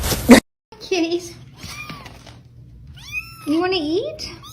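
Several cats meow nearby in short, rising and falling cries spread across the clip, with a brief noisy burst at the start and gaps of quiet between calls.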